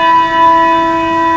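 A handbell rung during a demonstration of handbell technique and notation, a single bright sustained tone with steady ringing overtones, close and loud with no talking.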